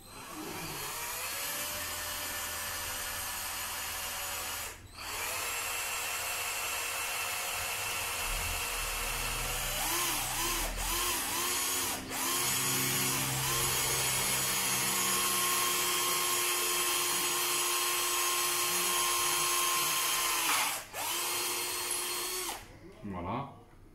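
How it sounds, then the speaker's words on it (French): Drill boring into an aluminium accelerator trigger part of an Urban Glide scooter, a continuous close whine lasting over twenty seconds with a few brief dips, under occasional speech. "j'espère que je vais réussir à percer"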